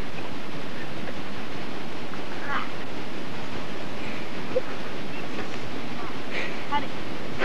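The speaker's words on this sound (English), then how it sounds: "I don't know if you can hear me over the waterfall" Constant broadband rushing water, like a nearby waterfall, fills the whole stretch with a steady roar and a few faint clicks.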